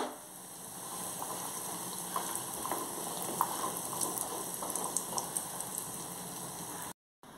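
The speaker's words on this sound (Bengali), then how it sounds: "এবার একটু বড়ি ভেজে নিই।" Bori (lentil dumplings) fry in hot oil in a kadai over low heat, giving a steady close sizzle with scattered small pops and crackles throughout and no talking, with a brief dropout near the end.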